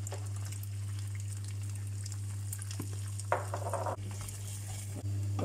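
Beaten eggs sizzling and frying in a hot pan for fried rice with meat and vegetables, stirred with a utensil that scrapes and clinks now and then over a steady low hum, close up with no talk.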